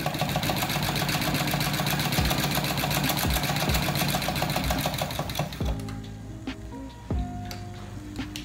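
A small Stirling engine generator runs with a fast, steady mechanical ticking and whirring, loud and continuous, then slows and thins into sparser clicks and tones near the end, with no talk over it.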